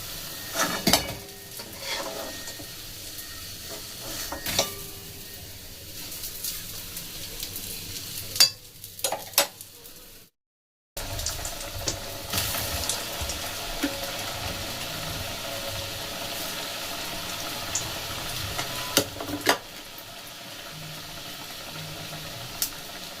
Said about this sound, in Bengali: লো ফ্লেম মিডিয়াম ফ্লেমে ভেজে নিলে পুরো মাছটাই সুন্দর ভাজা হবে